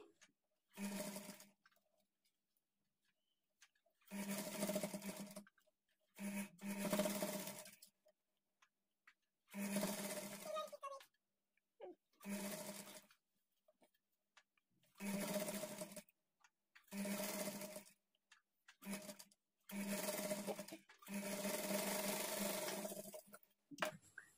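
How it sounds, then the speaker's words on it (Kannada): A sewing machine stitching a hemming strip on a child's lehenga blouse, running in about ten short bursts of steady rapid whirring separated by silent pauses, close and clear. "ಈ ಕೂಳೆ ಎಷ್ಟಿರುತ್ತೆ ಅಷ್ಟಕ್ಕೆ ಫೋಲ್ಡ್ ಮಾಡಿಕೊಂಡು ಸ್ಟಿಚ್ ಮಾಡ್ಕೊಳ್ಳಿ."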